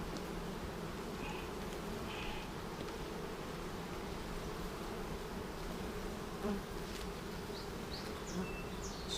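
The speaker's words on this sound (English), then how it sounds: "We'll see how cranked up these bees get as I do this." Agitated honey bees at a queenless hive give off a dense, continuous buzzing drone, close and steady, with faint higher whines of individual bees passing near.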